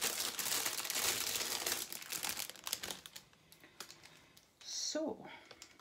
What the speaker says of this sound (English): I'll just take one out of the packaging to show you